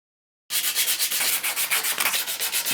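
Cylinder hone working inside a bore of a Saab Sonett engine being rebuilt, a loud, continuous abrasive scraping that pulses in a steady back-and-forth rhythm, close and alone.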